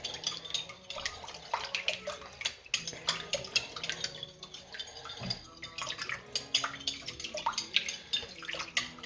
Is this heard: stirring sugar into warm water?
yes